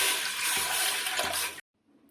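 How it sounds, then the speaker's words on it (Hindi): A glass of water pours into a large pot set on a gas stove for steaming idli, a steady splashing gush lasting under two seconds before stopping abruptly. "1 गिलास भर के पानी डालेंगे।"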